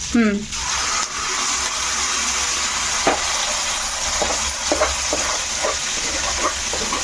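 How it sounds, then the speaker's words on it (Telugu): Tomato chutney sizzles steadily in a hot pan, a loud continuous frying hiss broken by a few close scrapes of stirring, with a voice briefly heard. "ఇప్పుడు ఇందులో టమాటా పచ్చడి వేసేస్తున్నా"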